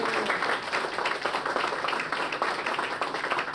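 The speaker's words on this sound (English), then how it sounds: "can we please give a round of applause to the broadcast team from Anderson TV" An audience applauding at a ribbon cutting in a theater green room, dense steady clapping from many hands, moderately near, sustained throughout.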